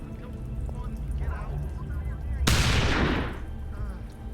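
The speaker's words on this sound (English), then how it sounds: "They're shooting." Gunfire during a VRChat roleplay robbery, with a single sharp, loud gunshot blast and a ringing tail over steady background noise and voices.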